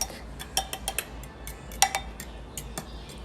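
Milk and egg whisked in a bowl for an egg McMuffin: faint, irregular metallic clicks and taps of the whisk against the bowl, sparse and light, with no voices.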